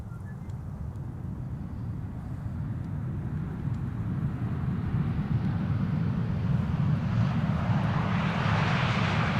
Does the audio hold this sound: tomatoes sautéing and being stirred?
no